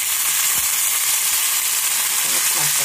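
Onion sizzling loudly in hot oil in a pan, a dense continuous hiss close up, with a few faint knocks of stirring underneath.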